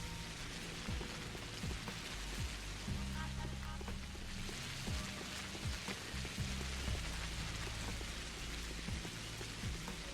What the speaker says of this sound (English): I just want to get out of the rain first.